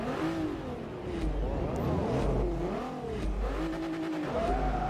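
An Audi TT in Forza Motorsport 3 revs hard and alone, its engine note climbing and dropping through repeated gear changes, loud and close, with a brief tire squeal.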